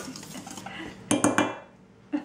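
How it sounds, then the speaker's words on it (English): Bread starter mixture stirred in a bowl for a wild yeast loaf, with soft scraping followed by a few sharp utensil knocks against the bowl's side, close up and brief. "Now I'm just going to stir this up."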